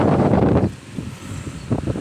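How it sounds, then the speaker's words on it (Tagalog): Strong wind in the Philippines buffets the microphone, opening with a loud roaring gust that drops off into lighter, intermittent gusts. "Masarap ang hangin, sa totoo lang po, kaya lang nakakatakot pong lumabas ng mahangin."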